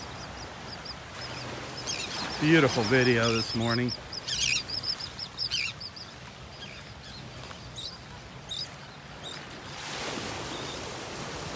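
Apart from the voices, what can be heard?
flock of birds flying off a beach sandbar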